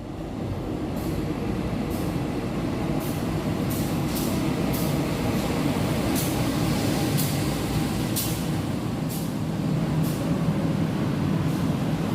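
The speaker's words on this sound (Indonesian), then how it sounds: "Di jalur satu ini datang kereta api gaya baru Malam Selatan" An Indonesian passenger train, the Gaya Baru Malam Selatan, rumbles steadily close by as it arrives on platform one, a continuous heavy rolling roar with faint rhythmic clicks from the wheels passing over rail joints.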